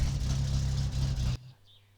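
Car engine running in the video game My Summer Car: a loud, steady low rumble for over a second that cuts off abruptly, leaving faint background hum.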